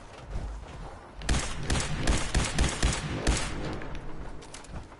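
Gunfire in the Fallout 4 video game: a loud burst of rapid shots, several sharp reports clustered close together, fired repeatedly over a few seconds with no talking.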